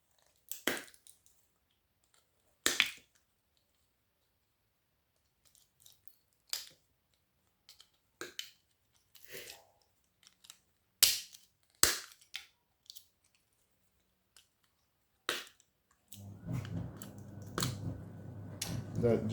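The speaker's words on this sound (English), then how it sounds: "bit more wire, which I'll cut off now actually when I'm here" Snips cut wire off brass scrap in a series of sharp, isolated snaps and crunches, spaced irregularly in near silence. Handling noise and rustling fill the final few seconds.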